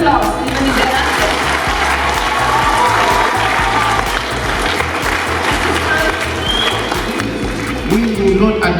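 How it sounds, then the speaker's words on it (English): A school assembly audience applauds loudly and without a break, a dense mass of clapping filling the hall for about nine seconds. "So they require one more round of applause, even if they're answering."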